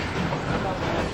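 The Durango–Silverton steam train rolls along with a steady, close rumbling roar and faint rattle, a continuous mechanical wash with no distinct beats.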